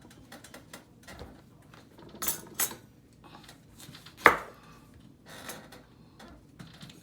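A knife cutting oranges for juice makes sparse, close knocks and taps on a board, with one sharp louder strike and quieter scraping between, and no talking.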